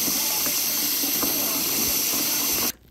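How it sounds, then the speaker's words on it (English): A Bissell vacuum part is rinsed under a running tap, a steady close hiss of spraying water that cuts off abruptly near the end. "All right, so I'm just getting this rinsed off."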